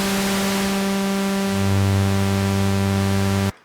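Roland Boutique JU-06 synthesizer plays a steady hiss of white noise layered with a held low tone, a deeper note entering partway through before the sound cuts off abruptly.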